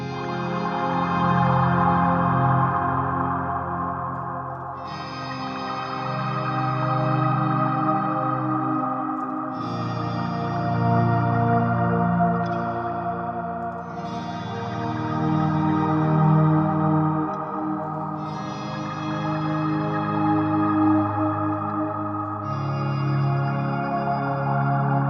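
Sustained ambient guitar with long echoing delay trails, chords swelling and overlapping in waves, steady and fairly loud throughout with no voices.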